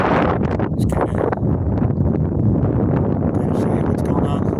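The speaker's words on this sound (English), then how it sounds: "it's pretty windy out here" Strong wind blowing across an open baseball field in Cabot ahead of approaching storms, a loud, constant rumble and buffeting against the microphone.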